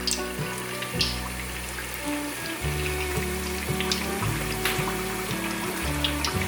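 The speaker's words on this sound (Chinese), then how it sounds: "油有稍微冒泡泡的时候，就可以把杏鲍菇放下来炸" Hot oil sizzles and crackles steadily as king oyster mushrooms deep-fry, a continuous close bubbling hiss over a low background hum.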